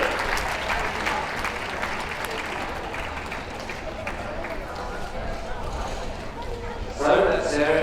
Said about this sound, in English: leave these other best of breed winners a good round of applause